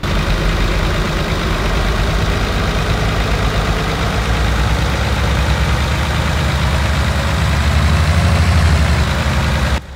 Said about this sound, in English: so there's the engine sounds